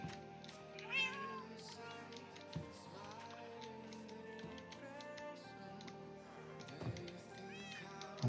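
Several cats in Minecraft Bedrock Edition meow repeatedly in short, scattered calls, some near and some farther off, over a steady game hum with occasional soft taps.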